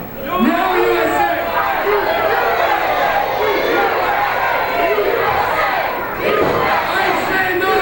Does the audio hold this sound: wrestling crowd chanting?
yes